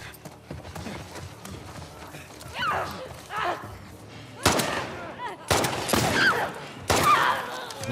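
Gunfire from The Last of Us Part II Remastered, in a No Return run on Grounded difficulty: several sharp, loud shots arrive in irregular bursts over a quieter game background.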